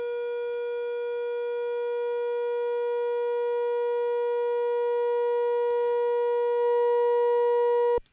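A pure sine wave shaped by the symmetry control of a Bitwig Studio distortion device, a steady sustained tone with a dense stack of added harmonics, holding level for about eight seconds before cutting off abruptly.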